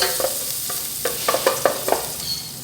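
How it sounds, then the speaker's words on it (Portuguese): Minced garlic and chopped onion sauté in a pan for a creamy chicken empada filling, a close sizzle under a quick run of spoon scrapes and stirs. "Vamos dar uma refogadinha aqui."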